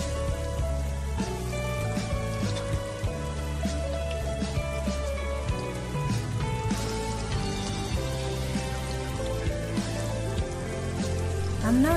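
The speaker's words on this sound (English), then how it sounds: "I'm now just going to repeat the process by frying all the other onion rings as shown in the video." Onion rings fry in hot oil with a continuous crackling sizzle and dense popping throughout, close and fairly loud, with no talk.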